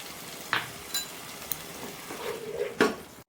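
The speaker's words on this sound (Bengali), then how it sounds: "এবার এর মধ্যে কর্নফ্লাওয়ার গোলা জলটা অ্যাড করে দেবো।" Cornflour slurry goes into Gobi Manchurian sauce frying in a pan, bringing a sharp sizzle burst near the end amid a few metallic clinks of a utensil against the pan.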